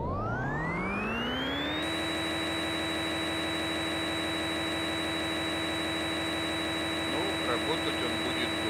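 Fanuc CNC machine running an ellipse macro program with a radius edge: a loud spindle whine climbs in pitch over about two seconds, then holds a steady, continuous drone, with faint clattering near the end.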